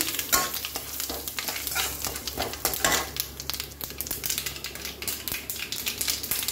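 Curry leaves sizzling in hot oil while bendakai (okra) fry is being made, giving a steady crackling spit with sharp pops and occasional stirring clinks, close and fairly quiet, with no voices.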